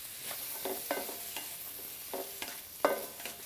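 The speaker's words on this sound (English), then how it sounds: "So next, I'm going to add some onions to this. And then fry it up until it gets a little translucent" Onions frying in a pan, a gentle continuous sizzle broken by a series of spatula stirs and scrapes every half second or so, close and fairly quiet, no talking.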